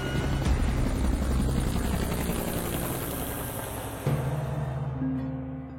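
Helicopter sound effect: a loud, continuous rotor thrum with rhythmic chopping and engine whine, steady for several seconds before a shift and fade at the end.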